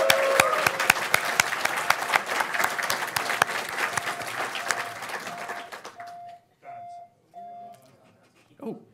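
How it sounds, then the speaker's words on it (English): Massive round of audience applause at a hackathon launch event for Bloomberg, dense clapping fading after several seconds, followed by a building fire alarm sounding in regular repeated beeps. "So Bloomberg, get a massive round of applause"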